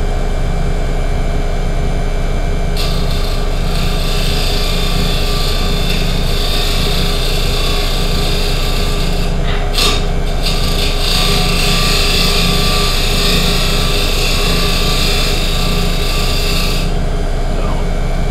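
A woodturning lathe turns steadily while a scraper shaves fine wood, making a loud, continuous hum with a brighter rasping scrape that comes in around the third second and lasts to near the end, briefly breaking once midway, with no speech.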